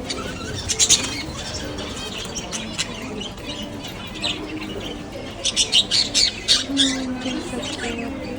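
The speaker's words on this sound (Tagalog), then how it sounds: "Look at the birds here." Several birds squawk and chirp nearby in bursts inside a house, with sharp repeated calls clustering together amid a busy background of chatter.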